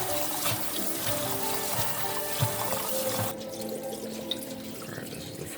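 Tap water runs steadily into a sink as rice is washed, close and continuous, easing to a quieter trickle partway through.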